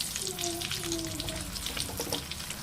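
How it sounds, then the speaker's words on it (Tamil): Onions go into hot oil in a pan for a chicken curry with drumsticks and potatoes. A dense, continuous sizzle hisses loudly and close throughout the brief moment. "இந்த டைமில் கொஞ்சமாக நான் எடுத்து வச்சுருக்க வெங்காயத்தை சேர்த்திக்கிறேன்"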